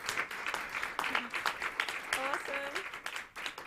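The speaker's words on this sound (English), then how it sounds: "Please give her a big round of applause." An audience at an innovation pitch showcase applauds a graphic illustrator, with moderate steady clapping from a crowd while a voice speaks briefly over it.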